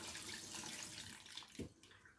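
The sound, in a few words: rinsing soap off watermelons with running water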